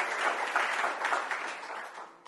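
A church congregation claps hands together in steady, dense applause that fills the room from start to finish, with no voices cutting through.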